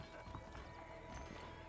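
Horse hooves clip-clop through a Red Dead Redemption game scene, a brief quick rhythm sitting under game ambience and music at moderate level, with a possible whinny.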